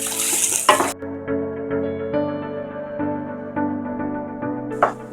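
Masala and onion fry in oil in a pan for a tea-time snack, with intermittent stirring clatter over a low sizzle, a louder burst of sizzling at the start and near the end.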